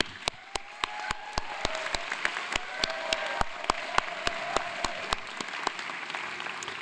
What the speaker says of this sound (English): So please give them a warm applause.